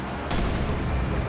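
A headquarters building in a wartime strategy game is destroyed in one sudden heavy explosion that booms in and then rumbles on as a loud, dense roar.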